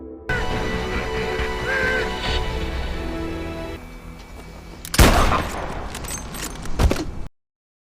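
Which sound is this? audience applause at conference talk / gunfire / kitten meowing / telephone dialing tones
gunfire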